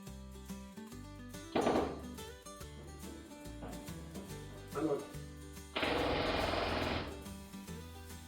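Two partners rivet aircraft-style metal, giving rapid bursts of pneumatic rivet-gun hammering and mechanical rattling in short and longer runs, close and loud over a tonal background hum, with talk mixed in.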